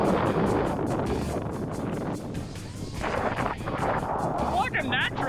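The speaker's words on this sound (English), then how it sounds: "It is so windy. It feels windy here." Strong, steady wind buffets the microphone with a loud low rumble throughout on the sand dunes at Lancelin, Western Australia, broken briefly by a short scraping sound near the end.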